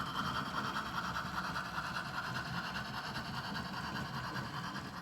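A steady, low rumble of an HO scale model train running along the Sierra Railroad 1955 layout, quiet and continuous with a faint rolling clatter.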